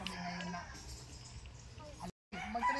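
Fighting rooster clucking and crowing faintly in a rural yard, short fowl calls with a brief gap, while people talk close by.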